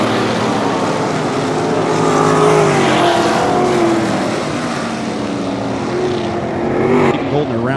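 Sprint cars roar around Ohsweken Speedway, a loud, sustained engine drone with pitch rising and falling as the field passes close by.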